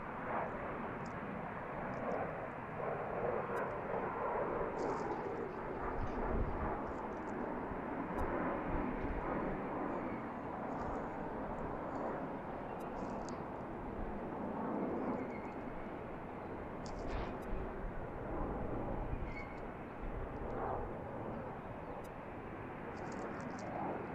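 Airliners departing and arriving at BWI airport, runway 33 right: a steady, broad jet engine roar holds at a distant, even level throughout, with no talk over it.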